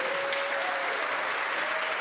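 A forum audience at University Lutheran Church of Hope applauds steadily and evenly for two seconds, a dense wash of clapping with no talk over it.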